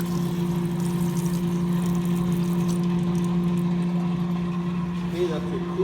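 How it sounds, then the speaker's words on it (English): The coolant pump on a Hardinge DSM 59 super precision turret lathe gives off a steady, close mechanical hum with a constant tone and a faint watery wash beneath it, unbroken throughout. "we'll show you the coolant pump first"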